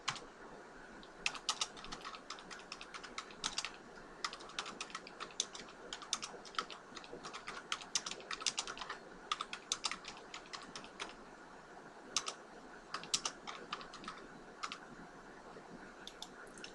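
Quiet computer keyboard typing heard alone, with irregular bursts of light clicking keystrokes and short pauses between runs over a faint steady background hiss.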